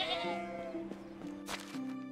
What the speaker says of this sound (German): Ja, die Schafe.